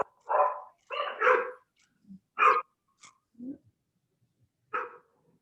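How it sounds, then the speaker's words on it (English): A dog barks in the background of an online meeting, several separate woofs and yaps spaced irregularly over a few seconds, fairly clear against otherwise quiet surroundings. "Somebody has a dog barking."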